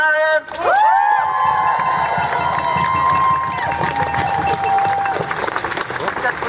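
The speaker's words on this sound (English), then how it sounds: "Huge round of applause, please, for Marion." A crowd at a trans pride protest rally in Nottingham cheers, whoops and applauds loudly and continuously, with shouts and a long high whistle rising over the steady clapping.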